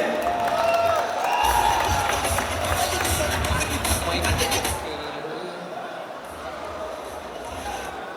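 Loud, continuous applause and cheering fill a crowd at a Malayalam film audio launch in Kozhikode, with a voice talking over it at first before the clapping thins slightly toward the end.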